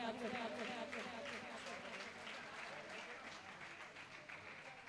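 Faint, continuous clapping from an audience gathered at a Jain religious assembly, steady and fairly distant, with a voice audible underneath.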